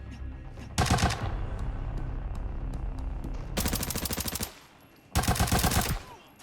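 Gunfire in the video game Arena Breakout: three loud bursts of rapid automatic fire, close and rhythmic, separated by short stretches of quieter game ambience, with no talking.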